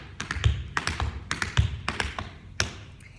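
Tap shoes strike a hard floor in flat heel steps, a crisp run of sharp taps in small uneven clusters, close and clear with no voices.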